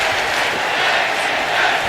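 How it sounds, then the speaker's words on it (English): A wrestling crowd roars and cheers throughout a tag team match, a dense, steady wall of voices with no break. "You can hear the crowd loves tag team wrestling here in RWR."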